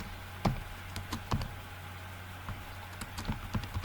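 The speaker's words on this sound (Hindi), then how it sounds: "मैं यहाँ पे टाइप कर लूँ" Fingers type on a computer keyboard in short, quiet bursts of clicking keystrokes with brief pauses between groups of taps. The clicks sound close against a faint steady hum, and no one talks.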